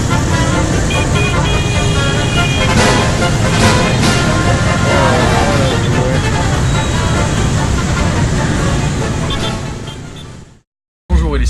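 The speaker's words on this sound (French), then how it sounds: "Comment j'ai pu commencer ce vlog et pas vous parler ici de la circulation." Heavy street traffic roars at a big intersection in Vietnam, a dense wash of motorbike and car engines with scattered horn toots, loud and continuous before cutting out abruptly near the end.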